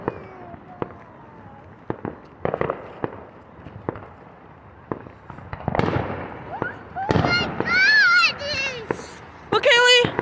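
Fourth of July fireworks at a 2022 celebration burst repeatedly in sharp cracks and booms, some near and loud, while excited voices shout and cheer over them.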